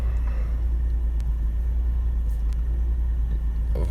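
A car drives along a road on a long trip to an apiary in Poltava, with a steady, loud low engine and road rumble running throughout and no talk.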